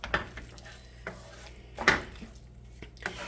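A spoon stirring egg yolk into other ingredients in a pot, giving a few sharp clinks and scrapes against the metal, close up and fairly quiet, with no talk.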